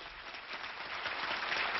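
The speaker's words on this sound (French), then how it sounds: "Les applaudissements fusent dans la salle." Applause rises in a hall after the launch of the Télécom 1C satellite, a soft, steady patter of many hands heard at a distance, slightly muffled, building a little toward the end.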